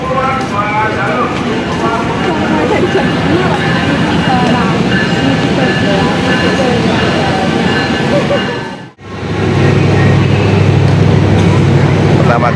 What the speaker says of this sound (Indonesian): Pertama kali naik kereta guys.